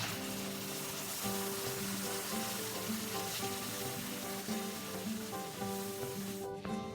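Diced tomatoes sizzle quietly in a pan with toasted spices, a soft steady frying hiss with a faint tonal hum beneath it.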